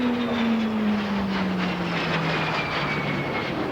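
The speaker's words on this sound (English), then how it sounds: "Our first jet, the Havilland Vampire." A de Havilland Vampire twin-seat jet trainer, formerly flown by the RNZAF, flies past at an air expo with a steady loud engine roar and a slowly falling whine, alone without talk.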